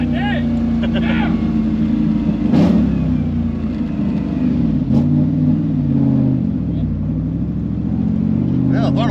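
An LT1 V8 in a third-generation Camaro with a sticking throttle runs loud and close, its engine note rising and falling in revs while people talk over it.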